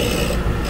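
A Quickway 797 flywheel grinder resurfacing a worn flywheel makes a continuous dense mechanical grinding rumble with a rasping, ratcheting texture, loud and close, with no talking.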